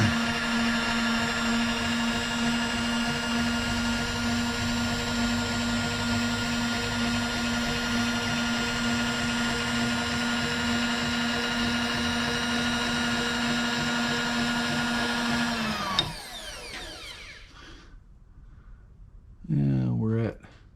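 A cylinder head's gasket surface is machined, with a loud, steady whine and grinding hum running continuously before cutting off abruptly near the end, followed by quiet and a brief burst of sound.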